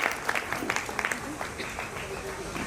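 Faint, thin applause from an audience at a Shiv Jayanti celebration, light scattered clapping at a distance, with talking underneath.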